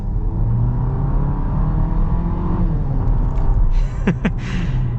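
A 2023 Jeep Compass Limited Elite accelerating, heard from inside as a steady, loud engine and road rumble that builds slightly toward the end, with no talk.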